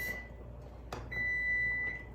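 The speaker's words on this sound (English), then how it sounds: "the timer's about to go off" A steady electronic kitchen timer beep holds for about a second after a brief click, with a shorter beep just before it, in a quiet room.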